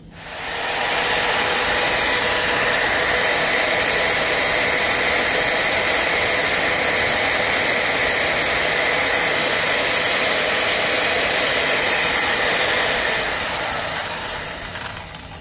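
A Dongcheng DMY185 7-inch circular saw runs freely at maximum RPM, spinning up in the first second, holding a loud, steady high-pitched whine for about twelve seconds, then winding down at the end.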